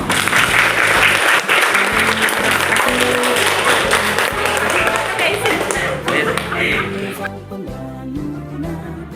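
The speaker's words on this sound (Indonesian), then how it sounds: "terima kasih tepuk tangan semuanya" A room of students at a vocational school session claps loudly and continuously, tapping slightly rhythmic, and the sound thins out near the end; a voice speaks amid the applause.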